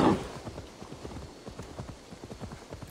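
Rhythmic clip-clop of horse hooves trotting steadily at close range in Assassin's Creed: Valhalla, a continuous patter of hoofbeats with a faint ambient hum beneath.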